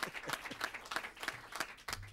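Rhythmic clapping at a Defense Department news briefing, regular strong beats about three per second with a quieter clatter between, fairly faint and distant, ending with a brief low voice-like murmur.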